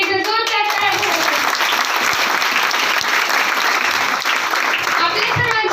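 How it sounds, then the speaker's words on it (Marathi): A crowd at a business felicitation gathering breaks into loud, sustained applause, a dense, even roar of clapping lasting throughout with faint voices mixed in. "सरांसाठी एकदा जोरदार टाळ्या वाजवा."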